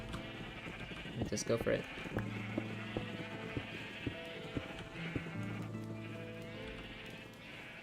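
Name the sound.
sheep bleating in a video game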